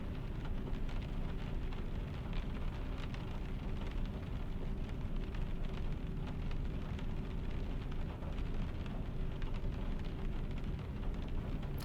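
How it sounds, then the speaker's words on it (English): Steady rain falls in a truck driving video game, a dense continuous hiss on the surface that stays loud and even throughout, with no voices. "It's still raining in game, which is kind of nice."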